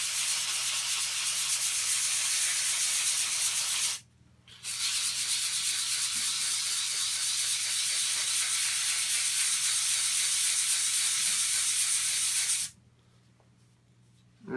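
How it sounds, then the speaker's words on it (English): Soapstone is sanded lightly in circular motions with coarse 120-grit sandpaper, a loud continuous gritty rasp that runs for several seconds, breaks off briefly, then resumes before stopping again. "I'm going to start with the coarsest 120, and I'm going to sand lightly, circular motions, until that scratch completely disappears."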